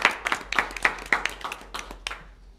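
A school board meeting audience applauds a scholarship accomplishment: a short burst of light, sparse clapping from a modest crowd in a room, tapering off toward the end.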